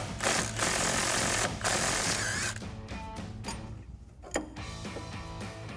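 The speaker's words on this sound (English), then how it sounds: "we're going to use our impact gun to spin the stud itself" Impact gun spinning the stud of a sway bar link with a 10mm socket on a 2011-2023 Dodge Challenger during a coil-over install: loud, steady buzzing whir in bursts that fades to a quieter rattle, with no talk.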